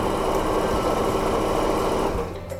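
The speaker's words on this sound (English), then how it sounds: "we are going to sew in a straight line all the way down" Sewing machine running steadily while stitching a straight seam down a cushion cover, a close, continuous whirring hum that slows and stops near the end, with no talk.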